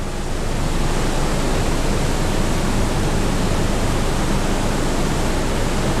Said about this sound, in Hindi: देखो पानी।